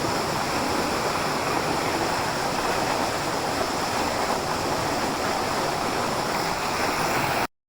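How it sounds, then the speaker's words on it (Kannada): A constant, close splash of an artificial, pipe-fed waterfall pours without pause, a dense steady hiss that cuts off abruptly at the end. "ಇದೊಂದು ಕೃತಕವಾದ ಫಾಲ್ಸ್"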